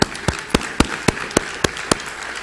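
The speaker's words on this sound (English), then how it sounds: "Let's give another round of applause to Karen Brashears" An audience at a professional development conference closing session applauds, with distinct, evenly spaced claps in a steady rhythm over a softer bed of clapping and no talking.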